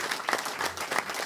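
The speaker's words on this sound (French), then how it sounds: "je crois que vous pouvez encore applaudir cette équipe" Audience at a political campaign meeting breaking into steady applause, a dense wash of clapping hands that stays fairly even and close with no talk over it.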